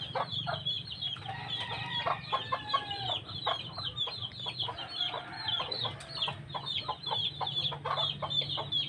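Several chickens cluck and chatter continuously outdoors, close by, after a typhoon flood, with overlapping calls and a steady low background hum.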